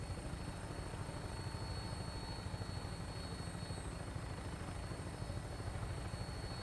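A vertibird in Fallout 4 flies toward the Prydwen airship, its rotors beating in a steady, faint, dense chop with a constant engine whine and no break.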